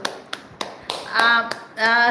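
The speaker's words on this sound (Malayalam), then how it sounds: "അതെ അതെ അതെ, കൈയടിച്ചു." A few sharp single hand claps ring out at an irregular pace, with talking carrying over them in the second half.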